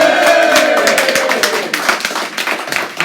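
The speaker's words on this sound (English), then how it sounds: "So can we have a cheer for that" A pub crowd in a small venue holding about 70 people claps and cheers loudly and steadily, a dense wash of applause with whoops rising over it.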